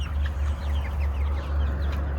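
Chickens cluck and squabble over a feeder of layer mash in a coop, a busy overlapping chorus of short clucks over steady low background noise.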